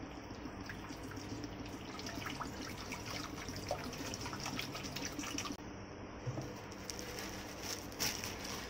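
A steady stream of water is poured into a pot to soak soya chunks for a vegetable pulao, a constant gushing, splashing flow heard close and fairly quiet throughout.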